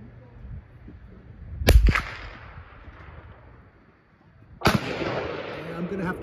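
Two sharp, loud cracks from an accurized .22 LR rifle fired outdoors, spaced about three seconds apart, each followed by a short fading echo, with no talk.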